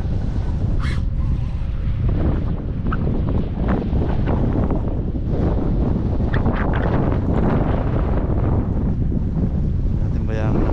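Strong wind roars steadily across the microphone on a small fishing boat at sea in windy, rainy weather, with water sloshing, brief clatters, and a faint voice underneath.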